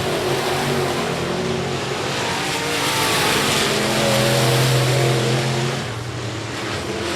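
Race cars at a speedway on the last lap roar past the finish line, a loud continuous engine drone with rising and falling pitch as the pack passes close by, with no voices.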